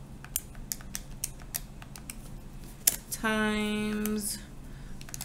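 Calculator keys pressed one after another in short, sharp clicks, followed by a brief electronic beep tone, with a voice speaking briefly in between.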